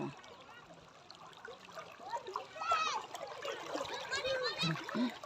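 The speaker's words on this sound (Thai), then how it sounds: "น้ำก็จะไหลไปทางวังทะลุค่ะ" Floodwater after very heavy rain flows and splashes steadily nearby, a continuous watery rush with splatter that grows louder midway, heard under a woman's and children's voices.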